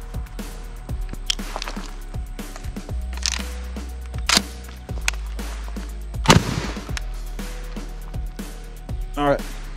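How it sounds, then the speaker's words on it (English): An IWI Tavor TS-12 semi-automatic shotgun fires a slug outdoors at close range. A sharp blast stands out among scattered clicks and handling knocks, with a person talking around it. "shoot a slug and buckshot and see what it looks like on a headshot this close."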